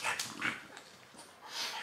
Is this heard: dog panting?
yes